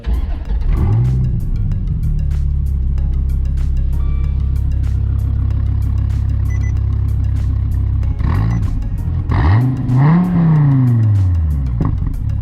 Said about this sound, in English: we just started the car. You get that nice snarl.